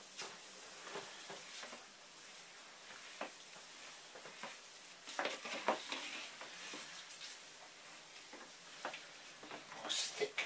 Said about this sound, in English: final stir